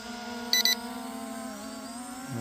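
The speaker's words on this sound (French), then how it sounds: "il fait bip bip parce qu'il signale qu'il a plus de batterie" Two quick high electronic low-battery warning beeps from an LMRC V-22 Osprey LM19 Pro model aircraft ring out close by over a steady motor whine, short and evenly spaced.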